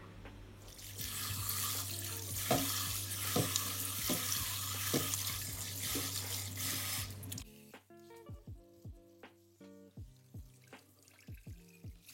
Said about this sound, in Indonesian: Sekarang saya mau cuci bersih kurang lebih 3 kali di air mengalir.